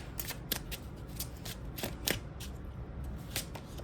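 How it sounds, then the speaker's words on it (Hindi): Tarot cards shuffled by hand, a quick run of crisp, close riffling flicks in an uneven rhythm over a low background, with no voices. "दूसरा कार्ड निकालते हैं।"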